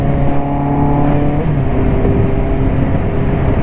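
A motorcycle exhaust drones loudly and close, rising in pitch as it revs, with strong wind rush over the microphone during the ride.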